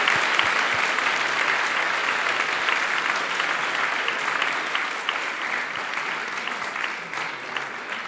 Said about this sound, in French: Encore des applaudissements pour les enfants de l'école primaire Maurice Thiège.